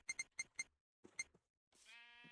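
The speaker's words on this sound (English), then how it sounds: "There's a sheep." Sheep bleating in the game Minecraft with the Cobblemon mod, a few short quiet bleats in quick succession followed by a longer bleat with a higher sustained tone at the end, with no talking.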